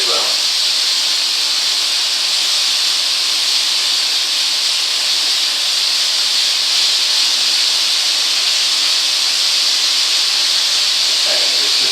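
Lamb pieces sear in a hot pan, giving a steady, loud, continuous sizzle and hiss that holds without a break throughout.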